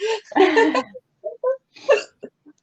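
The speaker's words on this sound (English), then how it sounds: "I don't believe his hiccups after a while." Hiccups from a person come in a short irregular run: several sharp, close catches, a couple of them voiced and drawn out, separated by brief silences.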